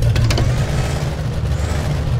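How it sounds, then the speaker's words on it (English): Supercharged 500-horsepower car engine in a Nextbot video game, a loud steady low rumble with a continuous whine above it, holding close and unbroken throughout. "Oh my, that's a supercharger."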